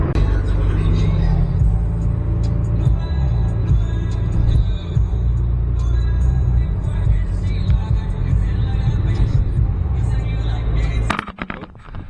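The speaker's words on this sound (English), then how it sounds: "let's take the car for a spin" A Toyota Yaris car being driven, heard from inside as a steady, loud, low engine and road rumble for about eleven seconds before a clattering shift at the end.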